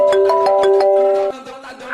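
A loud phone ringtone plays for an incoming call, a bright repeating electronic melody that rings close for about a second before cutting off.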